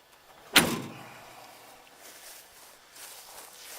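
A car door shuts with one solid thump near the start, followed by faint rustling and quiet room sound, on a car fitted with a rear sway bar and a 930 transmission adapter bracket.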